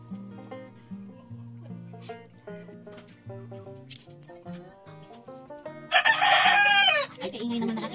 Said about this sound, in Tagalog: Ay, kaingay naman ang ating manok.